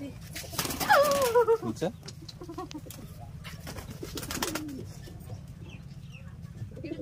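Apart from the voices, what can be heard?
pigeons cooing at a mini zoo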